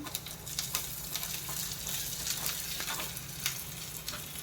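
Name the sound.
onion frying in a pan for pav bhaji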